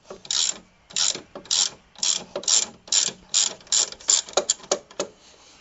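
A ratchet wrench clicks in quick repeated bursts, about a dozen strokes in even rhythm, close and clear, while removing a nut during a clutch change on a Peugeot 205.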